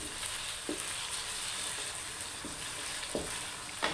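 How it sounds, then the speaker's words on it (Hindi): Chicken fries with ginger garlic paste in a pan, a constant soft sizzle with a few short scraping stir strokes, nearby and without talk. "इसे मिक्स कर लें और अच्छे से इसे भूनें।"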